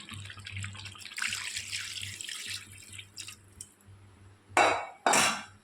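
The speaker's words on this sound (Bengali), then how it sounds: "পেঁপেটা আলুটা দিয়ে দেবো, দিয়ে এবারে আমাদের গরম জল দিয়ে দেবো।" Water runs and splashes, then two loud pours of hot water near the end go into a pot of mutton curry with papaya and potato.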